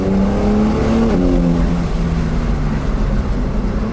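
Porsche 911 (992) with PDK gearbox accelerating, its engine drone rising then dropping sharply at a quick upshift before climbing again, heard as loud, steady in-car roar with no talking.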